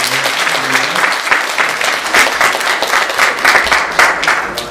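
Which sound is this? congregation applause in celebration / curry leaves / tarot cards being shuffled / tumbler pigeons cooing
congregation applause in celebration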